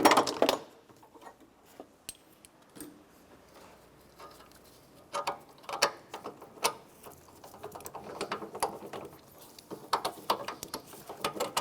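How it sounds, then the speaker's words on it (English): Bolts come out of the radiator cooling fan assembly on a 2006-2013 Chevrolet Impala, with scattered metallic ticks, ratchet clicks and small clinks, close and fairly quiet, broken by brief pauses. "Go ahead and remove our bolts."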